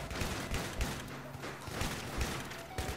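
Shotgun blasts in Battlefield 3 on a close quarters map, a series of heavy booming shots spaced roughly half a second apart amid ongoing background gunfire.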